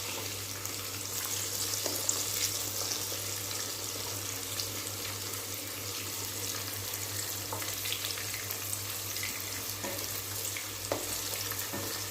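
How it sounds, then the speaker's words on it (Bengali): Tender brinjal (eggplant) slices frying lightly in a pan, a continuous soft hiss with occasional faint clicks, a steady low hum beneath, fairly quiet and without speech. "কচি বেগুন, জাস্ট এপিট ওপিট একটু করে ভেজে নেবেন"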